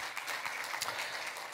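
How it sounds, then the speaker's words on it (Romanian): An audience in a church claps together for a few seconds, with quick, fairly soft, dense applause and no talking. "să haideți să-i aplaudăm."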